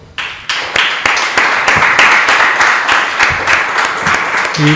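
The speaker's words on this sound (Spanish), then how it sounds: "Les brindemos un aplauso, por favor." An audience at an academic colloquium bursts into applause, a sharp start that quickly builds into a full, close round of clapping and then carries on at a steady level.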